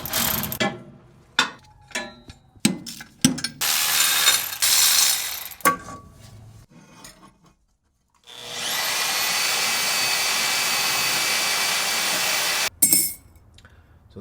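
3-inch exhaust tubing is cut apart while building a downpipe for a Subaru-powered Honda CRX: scattered clicks and metallic clanks, then a harsh, sustained cutting roar lasting about four seconds before it stops abruptly.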